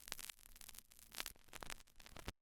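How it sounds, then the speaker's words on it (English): A short vinyl crackle sample for a music-production layer: dense broadband crackle and static with irregular pops, steady and quiet, alone, cutting off abruptly at the end. "So then the last layer that we have here is just this vinyl crackle"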